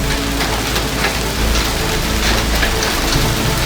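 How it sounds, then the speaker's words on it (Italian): Hail drums on a garden cover over a vegetable plot during an unseasonal May storm, a loud, dense and steady patter with no voices. "il meteo non si capisce più cosa sta facendo perché addirittura ha iniziato a grandinare"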